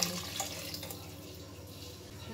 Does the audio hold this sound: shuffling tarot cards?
no